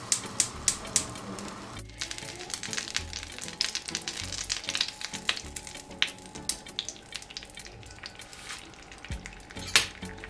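Butter sizzling in a pan before scrambled eggs, a light crackling hiss with scattered taps and clinks of utensils against cookware, close and fairly quiet.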